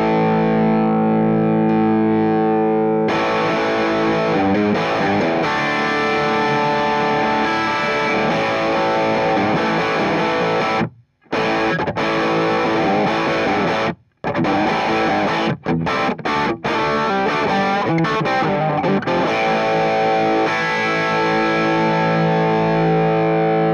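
Electric guitar played through a Wampler Plexi-Drive Mini overdrive pedal with the mids toggle engaged, giving thick, saturated chords and riffs that ring steadily with a couple of brief stops, loud and alone.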